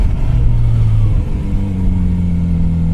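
A Kawasaki motorcycle accelerating in second gear on a desert road near Saguaro National Park, a loud close engine drone whose pitch climbs steadily under heavy wind rumble.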